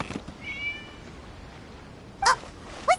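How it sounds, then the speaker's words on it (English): A cat meows in Genshin Impact, a short thin call near the start followed by two louder, clear meows close by toward the end, with quiet ambience between. "It was just a cat."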